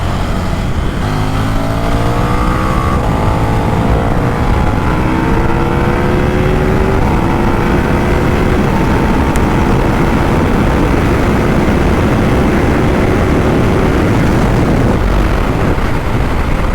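A KTM Duke motorcycle of nearly 1.4 litres, likely the Superduke 1390, accelerates hard out of a chicane onto a circuit's back straight, with its engine note climbing through several gear changes, loud, close and continuous.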